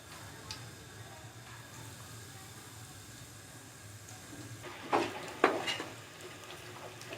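Pumpkin (kaddu) kofta fry in oil over a medium-low flame with a soft, steady sizzle and hiss. A few sharp utensil clatters stand out near the end.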